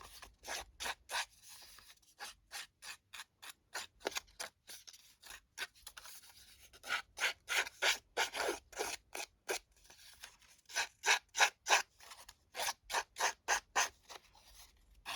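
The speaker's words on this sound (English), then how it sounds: "I did just do the scissor distressing on the edges" Scissors scrape along the edges of a 1 1/4 inch paper strip to distress it for a handmade card, a close, rapid series of rasping strokes in quick bursts with short pauses between.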